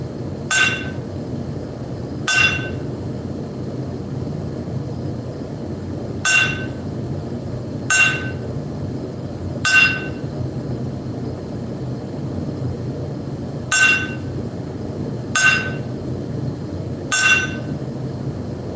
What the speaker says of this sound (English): We're going to ring the anvil for Thomas.